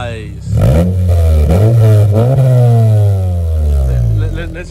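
A 10th-generation Honda Civic with an Invidia N1 exhaust revs hard, the engine note climbing and holding loud and close for several seconds before easing off.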